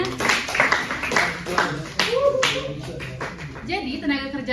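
Short bursts of hand clapping from a classroom group during an accounting microteaching lesson, several quick rounds of claps mixed with a speaking voice.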